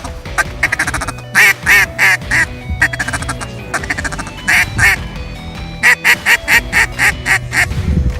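A waterfowl game call, blown to imitate a duck, sounds out slow, soft feeding chatter in repeated bursts of quacking notes, loud and close, with brief pauses between runs.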